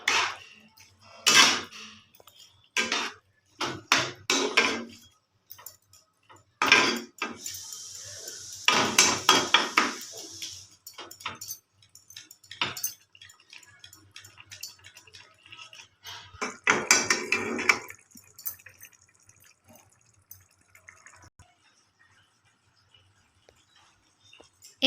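Metal spoon clattering and scraping against a pan while mixing a prawn and pumpkin curry, irregular bursts of knocks and scrapes with short pauses between them, close and fairly loud.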